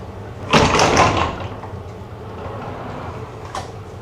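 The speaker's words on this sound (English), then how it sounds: "And that closes off with double pocket doors there." Double pocket doors in a Disney resort hotel bathroom slide shut, a loud rolling rumble and clack over about a second, then a quiet room and one faint knock afterward.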